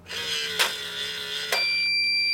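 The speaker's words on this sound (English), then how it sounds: "They'll hear that loud beeping sound, and they'll simply push open the door to turn that alarm off." A home medication dispenser sounds its alarm with a loud, steady electronic tone. Sharp clicks break in as the unit is handled, and the beep holds alone to the end.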